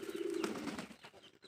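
Domestic pigeons at a pigeon farm give a soft, rolling coo that holds steady for about half a second and then breaks into fainter, uneven murmurs, close by with a low rustle behind.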